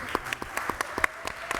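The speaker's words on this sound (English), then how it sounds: "everyone clap really loud" A small audience at a panel event on AI and consumer behavior claps briefly, with sparse, individually distinct claps at an uneven rhythm, fairly close and moderately loud.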